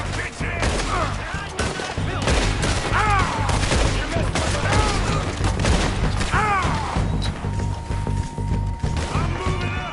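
Red Dead Redemption 2 gunfight with dense, continuous rattling of gunshots and booming blasts throughout, loud and close, with shouting voices mixed into the chaos.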